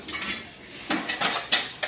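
Small metal pot set down on a smoke-free oven stove, a few sharp metallic clanks and knocks in quick succession, close and clear with no talking.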